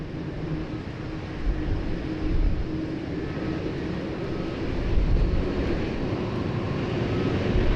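A widebody airliner with CF6 engines taxis toward the Alpha 1 holding point at Sydney Airport in heavy rain, its broad engine rumble steady and moderately loud over a continuous rain hiss, with no voices.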